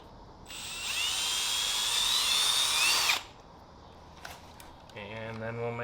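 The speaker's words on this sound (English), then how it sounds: "So we'll start off with a little hole with the drill bit." A power drill with a drill bit boring a small hole in a car bumper, whining steadily for about three seconds, followed by brief clatter and a voice speaking near the end.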